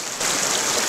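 Steady rushing Montana creek water, a constant close-up babble and hiss with no other sounds.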